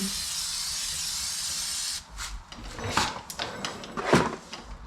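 A steady hiss from a spray can for about two seconds, then several metallic clunks and knocks as brake parts of a 2001 Toyota Camry are handled nearby.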